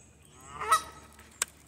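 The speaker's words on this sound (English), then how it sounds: "The geese are unhappy" Geese honking in a short outdoor burst, one loud honk call near the middle followed by a sharper single cry about a second later, with faint background noise between.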